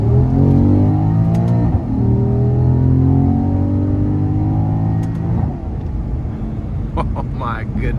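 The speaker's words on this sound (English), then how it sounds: "we're gonna get on the interstate here, and we're gonna give it some throttle" A 2014 Porsche Panamera GTS with a naturally aspirated V8 accelerates hard on an interstate, its engine note climbing steadily through the gears with loud, continuous rumble heard from inside the cabin, a short dip at a shift, easing off near the end.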